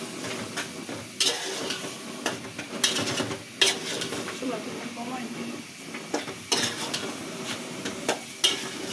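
Meat cooking with spices in a pot, stirred and sizzling, with clinks and scrapes of a utensil against the pot coming in irregular bursts over steady frying noise; a voice talks quietly at times.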